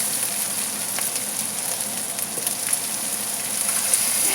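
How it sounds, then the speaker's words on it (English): Three cups of washed rice sizzling in a hot pan for Hainanese chicken rice, a steady soft crackle and hiss with scattered small pops, fairly quiet and with no talk. "Okay, I'm going to add in the washed rice,"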